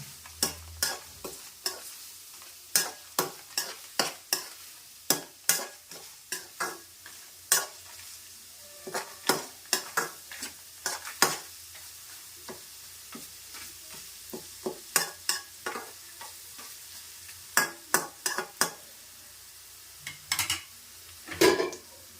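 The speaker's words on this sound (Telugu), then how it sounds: "పచ్చివాసన పోయేదాకా ఇందులో వేగించేసుకొని మనం ఇంకా అందులో కలుపుకోవాలి" Tempering for lemon carrot pulihora frying in a pan, a steady sizzle with repeated sharp spoon taps and scrapes against the metal as it is stirred, close and clear with no talk.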